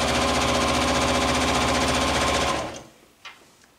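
A sewing machine stitches a blouse hem, its needle hammering in a fast, even rhythm, close and loud for about two and a half seconds before stopping, followed by a couple of small clicks.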